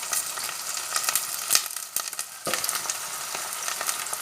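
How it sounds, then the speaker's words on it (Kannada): Onion, ginger, garlic, green chili and curry leaves sizzle steadily in a pan for a kadai paneer base, a close, continuous frying hiss broken by a few louder crackles and stirring scrapes, with no talk. "ಈಗ ಇದು ಎಲ್ಲವನ್ನು ಫ್ರೈ ಮಾಡಬೇಕು."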